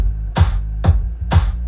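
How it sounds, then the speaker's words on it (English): Three layered studio claps in an even rhythm, processed through an SSL compressor. Each hit is punchy and bright with a short tail, loud and close over a low, steady bass hum. "We have a signature clap."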